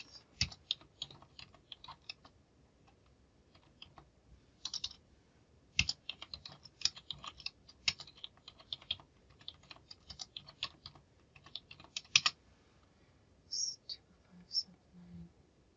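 Quiet computer keyboard typing in irregular bursts of clicks, as numbers are keyed in for an accounting exercise, close and soft with a few brief pauses and no talking.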